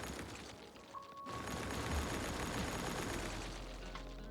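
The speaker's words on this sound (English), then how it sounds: "I'm gonna start by destroying these buildings here" Buildings being bulldozed in Cities: Skylines, heard as a dull crumbling rumble with crackling debris that rises after a short gap and holds steady, quiet and with no voices.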